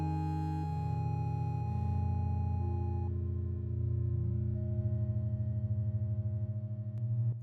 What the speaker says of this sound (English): First of all, we're going to add an echo.